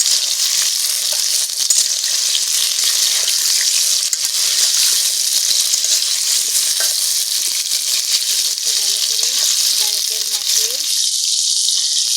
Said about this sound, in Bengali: কড়াইতে সরিষার তেল দিয়ে দিছি, তেলটা গরম হয়ে গেছে, এবার আমরা আলুটা দিয়ে দেব।